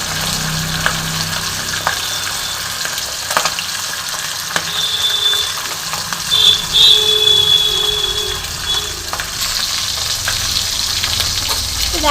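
Fish head rubbed with salt and turmeric frying in white oil in a wok, a loud, close, continuous sizzle with occasional stirring scrapes and a faint whine partway through.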